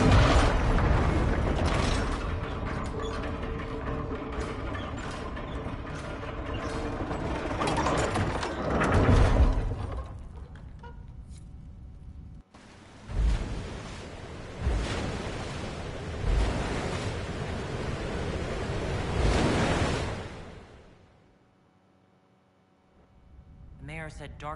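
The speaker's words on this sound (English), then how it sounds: "Here's how we can release the water." Water-release controls in Dragon Age: Inquisition grind and ratchet as old gears turn with creaking metal clanks, followed by a long rushing surge of water that swells loudly and then drops away to near silence.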